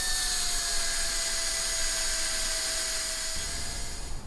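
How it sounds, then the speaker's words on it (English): A high-pitched drill whines continuously at a steady speed, close and loud, drilling out a rivet on a 1941 Fisk Radiola radio, briefly changing tone near the end. "there seems to be no way to open this plug apart from drilling out this rivet in the centre"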